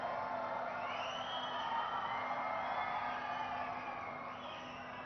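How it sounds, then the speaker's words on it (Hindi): A crowd at a stone-laying ceremony cheering and clapping, a dense and steady wash of noise with whoops, heard from within the audience. "let's have a huge round of applause"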